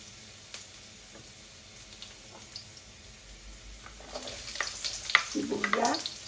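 Ginger frying in a pan, starting as a faint low sizzle that swells into louder crackling and spattering toward the end, with a few clinks of stirring.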